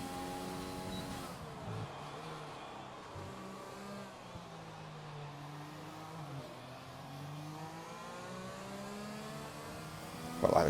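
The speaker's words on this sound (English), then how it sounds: "Got like a car bogged down there." A race car engine at the Zandvoort circuit in a sim racing event drones with a tonal, pitch-shifting whine that sags and bogs down mid-clip before recovering, heard fairly faintly and steadily throughout.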